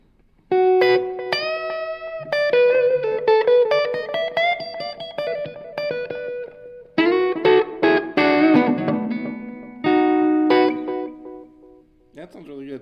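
Electric guitar played on the neck pickup through a REVV D25 combo amp with pedals in a room, ringing chords and single-note phrases with reverb and light distortion, loud and near, with pauses between phrases.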